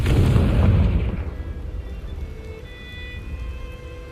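Confringo spell explosion in the Hogwarts Legacy video game: a loud, close, rumbling blast that decays into a lingering crackle and hiss.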